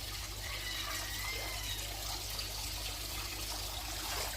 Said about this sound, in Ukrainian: Так, тут водичка у нас, озерце наше, заквітла німфея.